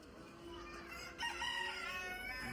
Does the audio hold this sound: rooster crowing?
yes